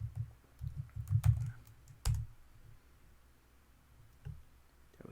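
Quiet typing on a computer keyboard, a handful of soft, irregular key clicks in quick clusters with one sharper tap, then sparse clicks in a hushed room with no talk.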